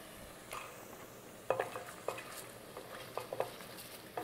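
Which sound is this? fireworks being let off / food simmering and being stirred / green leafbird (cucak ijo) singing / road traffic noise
food simmering and being stirred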